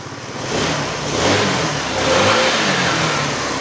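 A Kymco Like 200i scooter engine revs in steady, loud swells with a rough mid-range drone, rising and falling over a few seconds with no voices.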